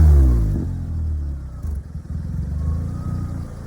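A Caterham with a Toyota 1.6 engine starts and settles into a loud, close, burbling idle, its exhaust thrumming with a low pulse and a brief blip of throttle partway through.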